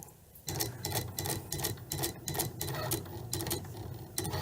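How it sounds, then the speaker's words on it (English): A Cricut cutting machine draws on smart material with rapid mechanical ticking and whirring, the carriage moving in short bursts that start and stop in quick succession, close and moderately quiet. "we're waiting for the machine to draw"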